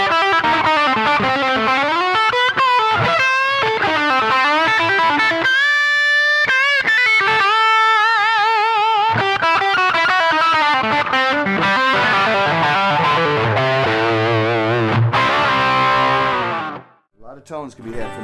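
An electric guitar with humbucker pickups and a Bigsby vibrato plays through heavy distortion, loud and close, with sustained chords, bent and wavering notes and quick riffs before it cuts off near the end.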